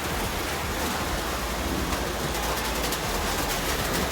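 Heavy rain falling steadily, a dense, even hiss that fills the whole short stretch with no pauses and no voices.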